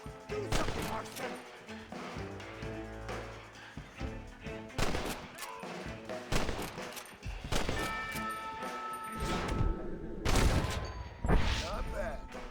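Gunfire in Red Dead Redemption on Switch, a tense shootout of irregular sharp rifle and pistol shots, some in rapid clusters, loud and close, mixed with shouting voices and game sounds.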